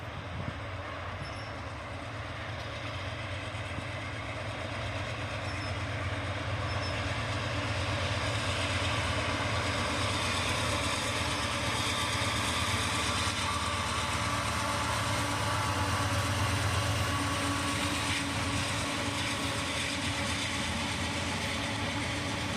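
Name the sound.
train with locomotive crossing a bridge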